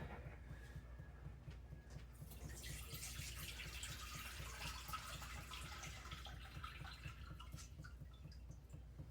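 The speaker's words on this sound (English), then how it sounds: "I'm gonna pour that in. It's gonna strain out anything that don't need to be in there, any mushrooms, onions, anything like that." Beef roast cooking liquid with garlic, onion and mushroom bits poured through a strainer into a pot, a soft steady trickle and splash running for several seconds over a low background hum, with no talking.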